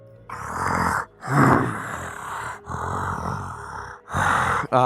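A voice imitates a snoring, slumbering dragon, giving four long, rough, growling breaths separated by short pauses, close and loud, with gasping, groaning texture on each exhale.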